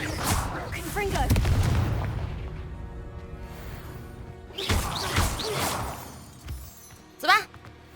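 A Confringo blasting spell explodes in Hogwarts Legacy, a couple of heavy booming blasts separated by quieter rumbling, with a short sharp burst near the end and a voice talking over parts of it.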